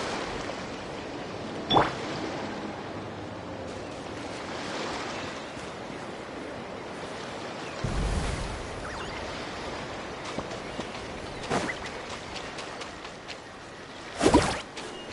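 A surfboard carving across waves in the game Genshin Impact: a continuous rush of surf and wind, punctuated by a few sharp splashing bursts as the board cuts through the water.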